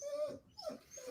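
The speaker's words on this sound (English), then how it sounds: "he's a good dog" A dog gives a short, faint whimpering whine, two brief nasal cries close by with no talk over them.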